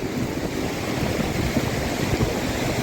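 Sea waves wash up on the shore at Somnath, a continuous broadband rushing and hissing of surf mixed with wind buffeting the microphone.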